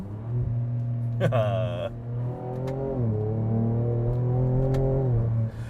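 A Ford Ranger Raptor in Baja drive mode accelerates hard, its engine holding a loud, steady drone with harmonics that climb and swell as it revs, close and continuous for the whole stretch.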